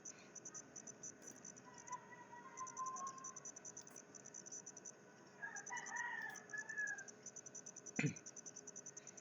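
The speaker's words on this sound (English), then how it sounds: "If you can hear the sounds of the roosters, I'm so sorry." Roosters crow in the distance, a few drawn-out calls spread over the clip, with a sharp nearby knock near the end.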